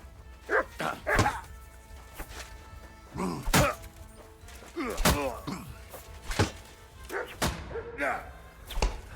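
A dog in the Kingdom Come Deliverance 2 video game barks repeatedly in short, loud bursts. The barks come at an uneven rhythm across the whole stretch, with dull thumps mixed in.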